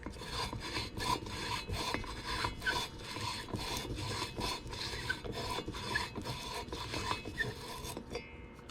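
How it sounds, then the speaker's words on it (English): Emery cloth wrapped over a socket sands a Stihl 025 chainsaw piston, making a steady rhythmic rasping rub that repeats in even strokes at close range with no talking. "it does not take very long to move through the surface layer with the emery cloth"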